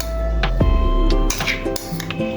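Makhana mixture is added to boiling milk in a pot, giving a few close metallic clinks and scrapes of a spoon against the pan over a steady low simmer, with no talking.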